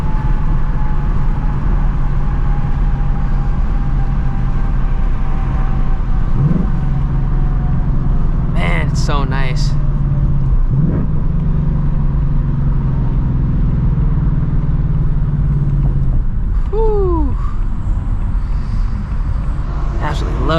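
A 2024 Ford Mustang GT with a loud exhaust driven at night, heard from inside as a steady low engine rumble with a couple of brief pitch shifts. Someone speaks briefly over it.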